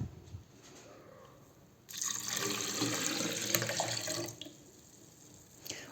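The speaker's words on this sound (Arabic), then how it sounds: "وزيد عندنا لتر ماء." Water, a litre measured for a homemade mojito with sugar and mint, pours steadily for a couple of seconds, a close splashing rush that stops abruptly, followed by a brief clink.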